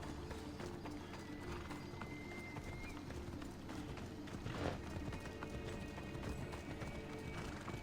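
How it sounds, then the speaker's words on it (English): Horse hoofbeats in Assassin's Creed Odyssey, a steady clip-clop of a galloping mount running throughout under dense game sound, with a brief whinny. "Why on earth is she riding a horse?"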